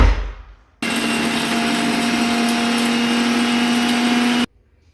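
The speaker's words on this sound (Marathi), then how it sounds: "आणि हे मिक्सरला फिरवून घेऊ" A kitchen mixer grinder grinding sugar and cardamom whirs loudly at a steady pitch for several seconds, then cuts off abruptly into quiet.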